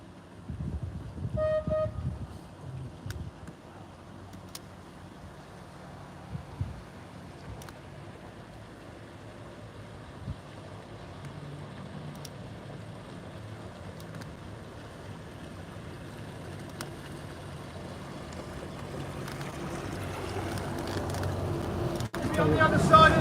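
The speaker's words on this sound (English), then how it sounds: "I can hear a big boat coming." A deep engine rumble builds slowly and steadily as a large boat draws closer on a river, starting faint and growing louder toward the end.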